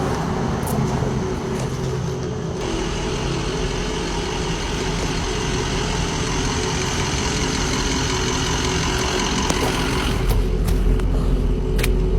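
A truck engine idles steadily and loudly throughout, a constant low rumble with a slight knocking texture and no break.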